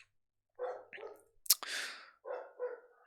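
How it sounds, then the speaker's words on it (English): A dog barks in a few sharp, close bursts separated by short pauses, with a brief snorting sound in between, heard alone in a quiet indoor room. "my sister's dog is barking like crazy"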